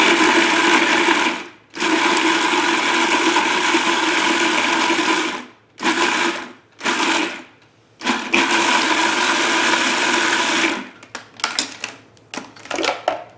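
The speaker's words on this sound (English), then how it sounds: "Put it in the food processor along with the sweetener, the salt" A food processor chopping cucumbers whirs loudly in several bursts, long runs broken by short pauses, then quick pulses at the end, close by.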